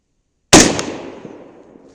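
A single rifle shot cracks out sharply after a moment of silence while a repaired Vortex scope is zeroed outdoors, its loud report trailing off in a long fading echo.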